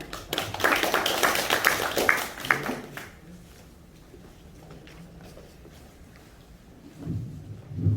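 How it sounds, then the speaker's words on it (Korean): A forum audience in a memorial hall gives a brief burst of clapping that quickly thins to scattered claps and fades into quiet room tone, with a faint rustle at the end. "이 두 분의 주제 발표에 대해서 큰 박수를 부탁드립니다."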